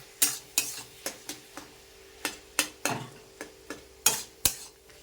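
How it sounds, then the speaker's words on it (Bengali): Boiled potatoes being mashed into ghugni curry in a pan, a series of sharp spoon taps and scrapes in an uneven rhythm over a faint low sizzle. "আলুটাকে একটু ম্যাশ করে দেবো, তাহলে কি ঘুগনিটা একটু গাঢ় গাঢ় হবে।"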